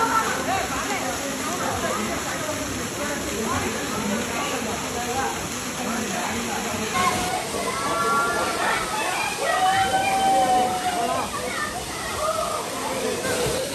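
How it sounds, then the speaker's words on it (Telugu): Apsara Konda waterfall on the coast of Karnataka pours in a continuous wash of splashing water, with voices and crowd chatter of tourists mixed in throughout and a brief whistling tone partway through. "ఇదైతే వాటర్ ఫాల్ అండి, అప్సరా కొండ వాటర్ ఫాల్."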